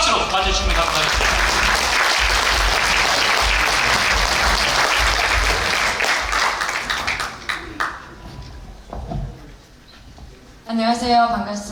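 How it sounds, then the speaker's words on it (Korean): Loud, dense audience applause in a large National Assembly meeting hall welcoming a young speaker to the stage, sustained for several seconds, then tapering to scattered claps before a person begins talking. "여러분 나올 때 큰 박수로 맞으시면 감사하겠습니다."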